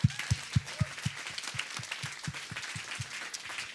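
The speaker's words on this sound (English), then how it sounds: "Big round of applause." Applause from the audience at a founder program graduation ceremony comes as steady, evenly spaced claps at a quick regular pace, moderately loud, without talk.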